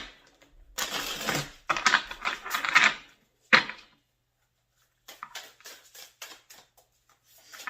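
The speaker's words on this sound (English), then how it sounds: "I can shuffle my cards." Tarot cards are shuffled in quick, crackling riffle bursts of close, dry clicks, with short pauses between the bursts and no talk over them.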